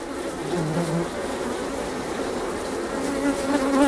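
Honeybees buzz steadily and close up while being brushed off a hive frame during a queen-rearing graft, a dense continuous drone that swells slightly toward the end with no talking.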